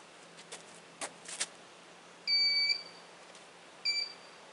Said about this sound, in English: I want to get the metal detector.